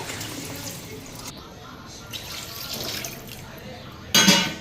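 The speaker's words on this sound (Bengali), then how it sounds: "এদিকে জল দেওয়া দিলাম" Water runs into a cooking pot of fish curry, a soft continuous trickle and splash under faint background noise, ending in a brief louder burst of splashing.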